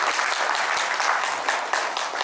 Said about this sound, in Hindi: उनके स्वागत के लिए सब जोरदार तालियां बजाएं